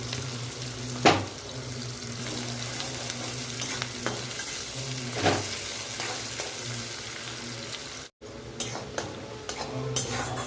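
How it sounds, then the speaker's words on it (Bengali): Chopped onions fry in ghee for a chicken biryani, a continuous close sizzle with occasional sharp clinks of a spoon or spatula against the pan. "আমি দিয়ে দিচ্ছি এখানে পেঁয়াজ কুচানো এখানে আমি আরও একটু ঘি দিয়ে দিচ্ছি"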